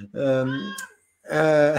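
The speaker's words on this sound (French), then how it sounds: "c'est mon chat qui pète les plombs" A cat lets out two long, loud, drawn-out meows close by, separated by a brief silence, with a person's voice mixed in.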